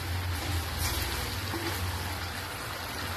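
Chicken fried rice with soy sauce being sautéed in a pan at home, a steady loud sizzle and frying hiss throughout, close up with no talk.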